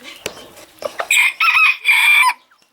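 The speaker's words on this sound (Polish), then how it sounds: "spójrzcie, kurki już tutaj siedzą, czekają" Sebright chickens at close range: a few short clucks, then three loud, strained crowing calls in quick succession, with no talking.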